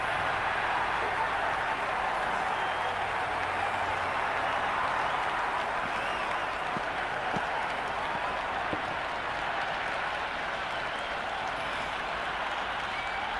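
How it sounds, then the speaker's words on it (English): Raucous stadium crowd at an India versus Zimbabwe T20 World Cup cricket match, a steady dense roar of cheering and clapping throughout, with a few sharper claps or drum hits breaking through. "The crowd are really getting quite raucous."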